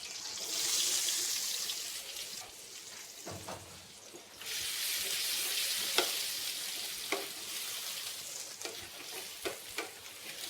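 Chopped onion sizzles and fries in a pan for an octopus and shrimp paella, with a steady bright hiss. Occasional stirring clicks and scrapes cut through it.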